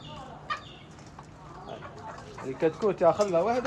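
Chickens and young chicks in a backyard coop cluck and cheep, a short squawk early on, then a louder burst of clucking near the end, with people talking nearby.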